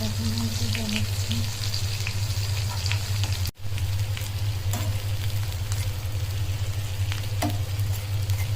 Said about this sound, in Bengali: এই তো টিকা তেলে ভাজা হচ্ছে, ভাজা একটু হলে এই পাশে উল্টাই দেওয়া হবে।